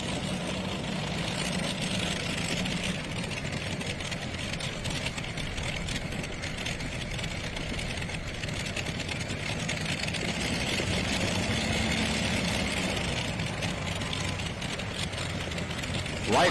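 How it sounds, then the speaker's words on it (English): A 540 cubic inch tractor pulling engine idling at a pulling event, a steady, loud, rough low rumble with a buzzing mechanical edge, running unbroken and close throughout, with crowd and arena noise mixed in. "weight is everything in tractor pulling. Listen to that sound, Ron."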